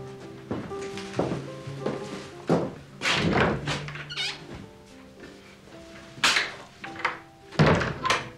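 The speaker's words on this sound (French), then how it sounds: "Je claque la porte en sortant." A door is slammed shut in a tense 1980s drama scene, followed by a series of heavy thumps and knocks of varying loudness, sounding close by in an indoor room.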